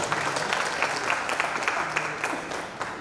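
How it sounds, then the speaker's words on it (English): An audience applauds a panel chairperson at a mayoral customer service lecture, a sustained wash of many hands clapping together, fairly loud and even throughout with no break. "Please give him a round of applause."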